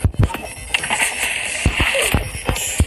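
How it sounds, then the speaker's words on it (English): A character falls into water in a flood escape game, and a few sharp splashes and sloshes cut through a busy layer of game sound with music, loud and close. "She fell in the water and died."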